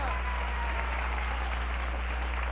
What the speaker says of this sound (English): Let's play a game of musical chairs and give ourselves a round of applause.